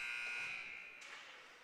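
A period-end buzzer blares through an ice hockey arena during a U18 game, one sustained electronic tone lasting about a second before fading into crowd and arena noise, with no voice over it.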